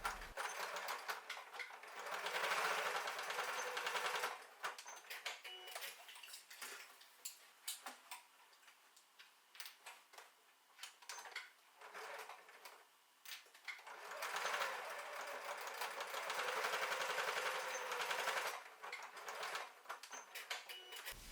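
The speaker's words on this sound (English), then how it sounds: "Stitch the D-ring loops into place close to the edge of the exterior fabric panel." A sewing machine stitches D-ring loops onto the edge of an exterior fabric panel for a zipper tote bag. Close, fast rhythmic whirring runs in two long bursts with quieter clicks and handling between them.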